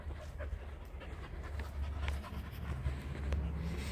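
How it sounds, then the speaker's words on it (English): Dogs pant steadily and fairly faintly just outside a door at a campsite, with soft rhythmic breaths over low background noise. "I'm just going to shut the door because the dogs are trying to get in."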